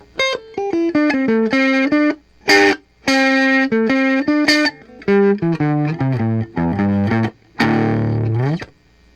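Heavily distorted electric guitar through a modded First Act DS-1 clone distortion pedal plays a melodic riff of single notes and short chords, with sustained fuzzy tones and brief gaps between phrases.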